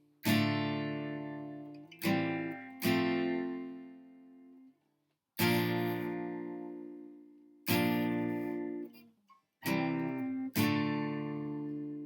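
Acoustic guitar strums ring out in a simple chord progression, six or seven strummed chords each left to sustain and decay, with a short pause midway.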